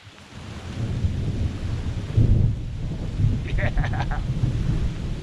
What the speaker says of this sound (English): Rain's coming down. Good thing we brought that tarp.